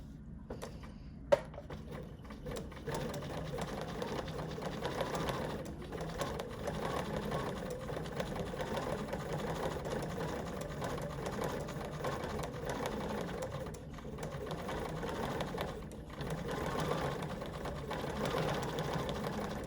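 A home sewing machine runs a steady straight stitch in gray thread while quilting leafy vines on a notepad holder, a continuous mechanical whir at close range with no talking.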